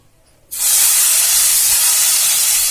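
Hot tadka of curry leaves is poured into kadhi pakora curry, setting off a sudden, loud sizzling hiss that bursts in after a brief quiet moment and holds steady close by.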